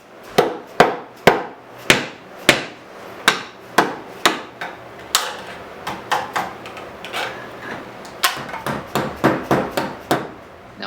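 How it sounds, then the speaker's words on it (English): A hammer pounds repeatedly on wood while a homemade 16-inch bandsaw is being assembled. The strikes are loud, close and sharp, and they come at a steady pace at first, then in quicker clusters toward the end. "I shall now demonstrate with my hammer."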